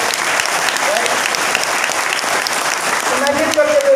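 Audience at a packed CEO meeting in Mumbai breaks into loud, sustained applause for Vikram Malviya, a dense steady wash of clapping throughout with a brief tonal sweep near the end.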